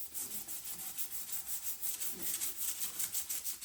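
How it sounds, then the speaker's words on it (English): Sandpaper around 320 grit scuffs a Honda Goldwing stator cover in steady rhythmic strokes, a close, soft hissing rasp repeating about four times a second with no talk. "And all we're trying to do is just scuff it so it all looks faded."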